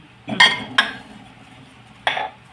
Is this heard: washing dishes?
yes